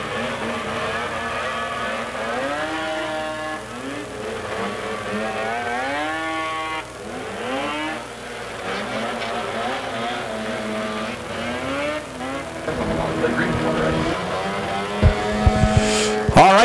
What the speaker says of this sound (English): Glenn Hart onto the racetrack now, the Hart Roofing Darcy's Pipes number 51